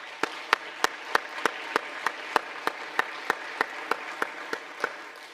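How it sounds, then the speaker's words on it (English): Applause for nominators at a public health honors ceremony, heard as evenly spaced, crisp claps repeating at a steady rhythm, moderately soft and without voices. "So a round of applause for the nominators"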